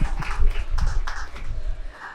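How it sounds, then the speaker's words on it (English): Scattered applause from a conference audience greeting a panelist at an investment panel, a short burst of uneven claps fading out after about two seconds, no voices over it. "Give her a round of applause."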